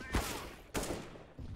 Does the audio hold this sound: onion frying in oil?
no